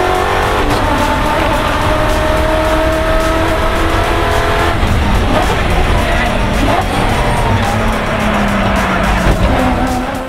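A V8 ute race car fitted with an X-Force exhaust roars loudly and continuously on track, its engine note rising and falling with tyre squeal and skidding, while other cars pass in the background.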